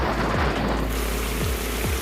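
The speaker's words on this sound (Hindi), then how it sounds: "देखिए बारिश हो गई है, काली घटा देखें और धुआंधार बारिश हो रही है" Heavy downpour during a rainy motorcycle road trip, a steady dense hiss of rain filling the whole stretch with a low rumble beneath, close and fairly loud, with no talking.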